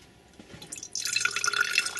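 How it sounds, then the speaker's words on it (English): Liquid is poured out of a container after settling into separated oil and water layers, starting with faint drips and trickles, then becoming a steady, close splashing stream. "So what we're going to do now is just pour it."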